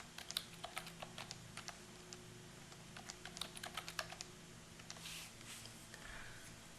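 Keystrokes on a computer keyboard as a password is typed, a quick run of sharp clicks in uneven bursts, close and fairly quiet, with a low steady hum beneath and a brief soft rush near the end.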